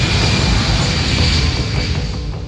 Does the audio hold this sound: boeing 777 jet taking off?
yes